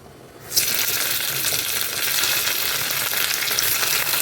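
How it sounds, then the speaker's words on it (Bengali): Paneer drops into hot oil in a pan and sets off a loud, steady sizzle that carries on evenly, close up, with no talk. "তেল দিয়ে আগে পনিরটাকে ভেজে নিই"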